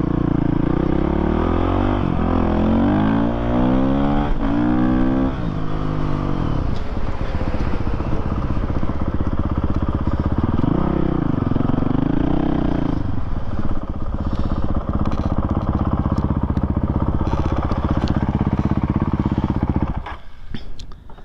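Honda CRF450RL dirt bike riding with a smoothed throttle, its engine loud and close, revving up and down in rising and falling sweeps before settling into a steady drone that cuts off near the end.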